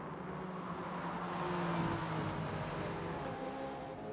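Racing car engines roaring in a sim racing endurance event at Spa, prototype traffic rushing through as a steady, dense engine drone with a swelling pass near the middle, no talk.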